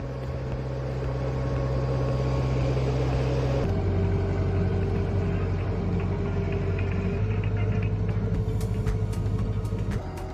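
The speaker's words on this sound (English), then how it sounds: "the chopped cactus pieces are fed into the Mecatral Forraguera, powered by a 90 horsepower motor" A Mecatral Forraguera cactus chopping machine driven by a 90 horsepower motor runs with a steady, loud droning rumble and mechanical whine, shifting pitch slightly partway through, with no voices.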